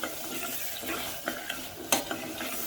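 Cumin and red chili spices sauteing in a hot pan for an okra chicken curry, giving a steady close sizzle with occasional stirring scrapes and a sharp utensil clink near the end.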